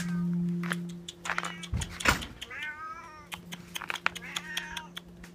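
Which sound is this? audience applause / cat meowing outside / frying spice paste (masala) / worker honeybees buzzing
cat meowing outside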